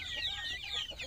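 KUB chickens, a flock of around sixteen birds on a small farm, cluck and chirp continuously at close range with no voices.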